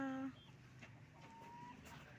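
Chickens around a coop give a brief close cluck at the start, then softer scattered fowl sounds carry over a quiet outdoor background.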